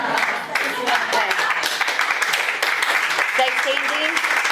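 An audience at the Texas Blueberry Festival gathering in Nacogdoches breaks into sustained applause, dense and fairly close, with clapping running the whole time and a voice speaking faintly underneath.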